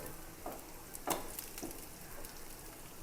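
Oil sizzles steadily with a soft crackle as small fish fry, a few sharper pops and spatters rising briefly above the hiss.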